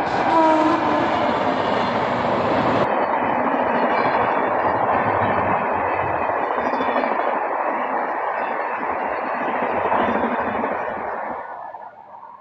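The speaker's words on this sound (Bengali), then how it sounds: "সামনে কট লাইনে এক্সপ্রেস ট্রেন।" An express train on the chord line passes near a railway project site, a loud sustained rumble and rolling clatter with a horn blast at the start, slowly fading away toward the end.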